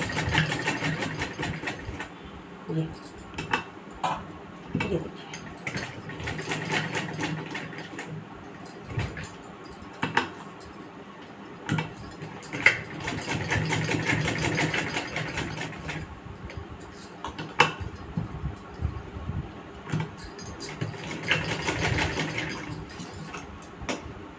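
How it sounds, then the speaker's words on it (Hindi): A sewing machine stitches a mobile phone cover made from old denim jeans, its motor whirring in steady bursts that start, pause and resume over a low background hum, with no talking. "तो यहाँ से मशीन ये रखेंगे इस जगह से सिलाई हम यहाँ से चालू करेंगे।"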